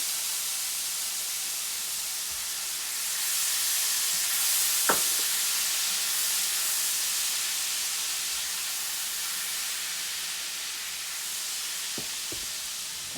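Salmon bites for crispy sticky Asian salmon sizzle softly and steadily in a pan, a faint continuous hiss with a couple of brief clinks.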